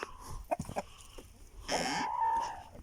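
Chickens clucking close by, a few short clucks followed by a longer drawn-out squawk.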